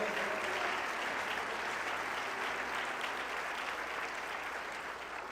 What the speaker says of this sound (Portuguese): Pode aplaudir este Deus maravilhoso.